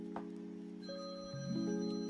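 A phone rings with an incoming call, a steady electronic ringtone of sustained tones that shifts pitch partway through and swells slightly louder near the end, with no talking over it.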